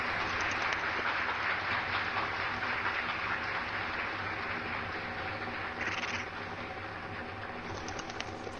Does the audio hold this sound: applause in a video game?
yes